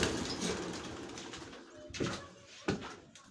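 A homing pigeon coos softly amid quiet outdoor background noise, with a few sharp rustles or wing flaps near the end.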